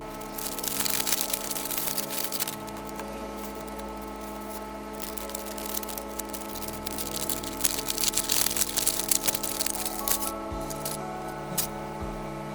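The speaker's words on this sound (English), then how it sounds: "We're going to give it a quick unwrap and see what we've got." Heat-treated opals being unwrapped after coming out of the oven, with close crinkling, tearing and crumpling of wrapping in uneven bursts over a low steady hum, no speech.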